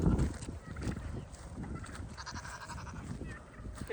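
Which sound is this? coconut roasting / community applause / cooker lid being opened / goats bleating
goats bleating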